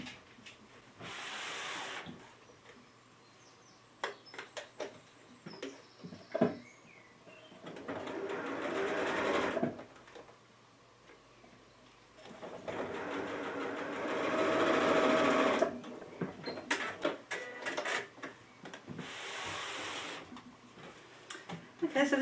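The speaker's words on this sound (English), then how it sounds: "I'm going to sew those pleats in place" A sewing machine stitches fabric pleats in place for a Japanese knot bag. Several bursts of rapid mechanical stitching are separated by quieter pauses with small handling sounds.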